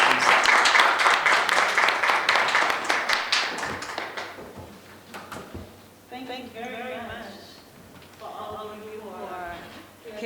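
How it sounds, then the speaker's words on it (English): An audience at a poetry reading claps for a poet, a run of sharp, fairly close hand claps over the first few seconds, then it stops and a person begins talking. "let's give her a round of applause"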